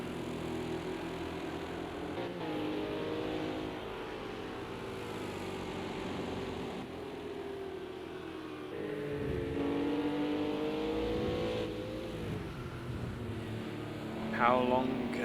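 A Honda NSX and a Ginetta GT3 race car in Project CARS 2 running close together, with engines droning and revving at a steady mid level while a commentator talks throughout.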